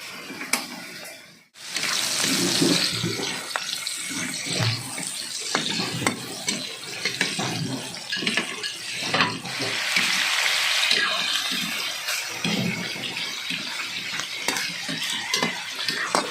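Adobo chicken and pork meat sauté in a pan in their own rendered fat, a loud sizzle churned by repeated stirring and scraping, with faint clinks and a short pause near the start.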